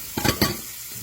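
Steak sizzles in oil in a hot pan, a couple of quick bursts of crackling as the meat is moved or shaken, close and fairly loud with steady frying hiss beneath.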